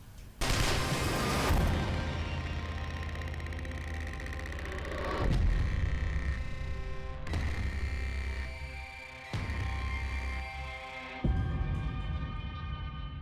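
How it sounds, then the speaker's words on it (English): Gunfire in a Walking Dead Season 5 trailer: heavy gunshot booms with long ringing tails, a loud burst at the start followed by several spaced, echoing shots over a rumbling dramatic score, no talk. "Rick just shot a bunch of people with guns"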